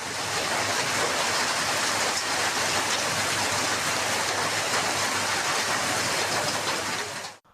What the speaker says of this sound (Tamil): மாவட்டத்தின் பல்வேறு பகுதிகளிலும் பரவலாக மழை பெய்தது